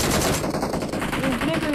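Gunfire hitting the player in PUBG Mobile, a dense, loud, rapid rattle of shots that runs continuously without pause.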